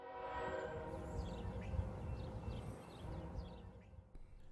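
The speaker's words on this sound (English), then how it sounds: "Minutes later, we hear another horn coming off the Cherokee sub." BNSF mixed freight train horn sounding from the Cherokee subdivision near Springfield, heard as a faint, distant sustained tone over a steady rumble of outdoor and rail noise.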